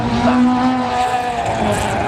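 A rally car's large engine drones loudly and steadily along a stage at the McRae Rally Challenge, its pitch holding high and sustained throughout, with commentary voices faintly underneath.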